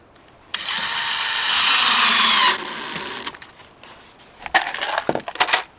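A power drill drives screws, whirring loudly for about two seconds before winding down into clicks, knocks and rattling, close by with no talk.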